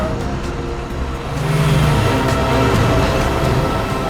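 A car drives by on a road leading out of Goa, its engine swelling louder partway through and holding as a steady close rumble to the end.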